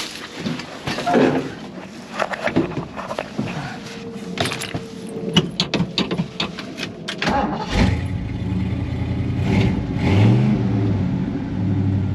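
Ford Bronco with a fuel-starvation problem: clicks and cranking attempts end as the engine catches, then a loud, close rumble at idle that rises in pitch with several revs.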